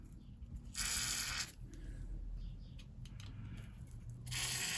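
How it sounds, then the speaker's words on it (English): Penetrating oil sprayed onto a tight, seized bolt on a Ford Ka rear shock absorber mount: two sharp aerosol bursts, one early and one near the end, with quieter rustling and handling between them. "now I'll just give it another spray"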